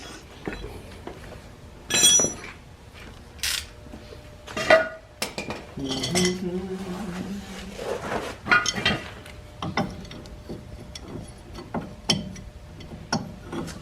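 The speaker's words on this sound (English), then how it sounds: "I guess I can put my pipe wrench on there" Metal tools clink and clatter while work goes on under a 2009 GMC: several sharp, close knocks of a pipe wrench against a metal nut, scattered irregularly among softer handling noises.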